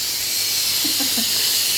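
A Pressure King Pro pressure cooker vents steam in a steady, loud continuous hiss throughout, cooking a beef stew, with no talk over it.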